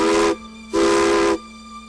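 A narrow gauge steam train sounds its whistle on departure from Silverton, Colorado, bound for Durango: two loud, steady whistle blasts with a breathy hiss, the second slightly longer, and a low steam tone continuing between and after them.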